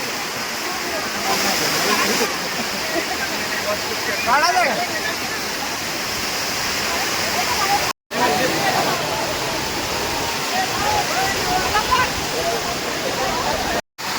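A waterfall in Tamhini Ghat roars steadily and fills the whole scene, with faint voices heard now and then over the rushing water.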